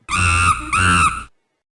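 A monkey gives two loud, shrill screeching calls in quick succession, close and harsh, each lasting about half a second, with no other sound around them.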